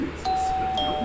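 A two-tone electronic doorbell chime rings twice, clear and close, the second tone sustaining over a faint low background hum.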